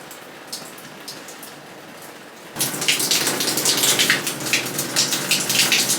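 Shower water bursts on partway through, a steady loud broadband spray and splashing that replaces quieter background hiss and continues to the end, heard after a repair to a home shower.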